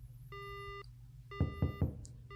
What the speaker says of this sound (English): Suddenly the phone goes dead.